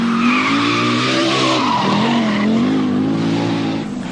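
A 360 horsepower Audi Quattro rally car slides and skids through a twisty stage of the 1983 Lombard RAC Rally, its engine wailing loud and continuous with rising and falling pitch and tire scrub.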